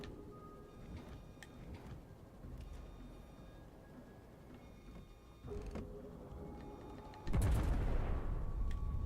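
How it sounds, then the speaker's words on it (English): Warship artillery in World of Warships: Legends: faint ticks and distant thuds give way to one loud, heavy gun blast that rolls on as a deep rumble near the end. "All stations, concentrate fire on the target."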